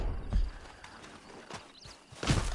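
Horse hooves from Red Dead Redemption 2 clop in a loose, uneven rhythm, a handful of soft thuds with a louder pair at the start and end, quiet and close.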